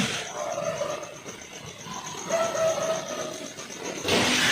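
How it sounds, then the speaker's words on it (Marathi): Several birds call outdoors in the early morning near a house doorway, a steady chorus of chirps and calls layered over a continuous outdoor hiss, fairly constant with no talking. "कोणते तरी पक्षी"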